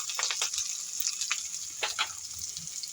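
Chopped garlic, ginger, green chilli and onion fry in hot white oil in a pan, a steady close sizzle with light stirring scrapes and small crackling bursts.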